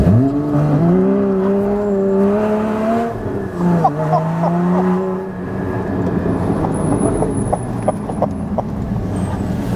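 A 2016 Porsche GT4 engine revs hard on track, its rising and falling harmonic wail loud and close as it climbs through the gears, with an occupant talking over it.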